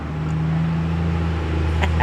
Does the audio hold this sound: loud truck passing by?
yes